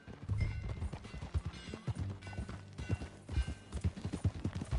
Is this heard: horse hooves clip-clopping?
yes